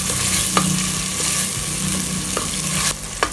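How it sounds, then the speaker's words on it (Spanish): Aderezo seasoning base, made with ají, fries steadily in a pan for a Peruvian green bean sauté, with a continuous loud sizzle and a few sharp scraping stirs of a utensil through it, and no talking. "Lo vamos a mover y vamos a esperar un ratito a que cocine nuestro aderezo"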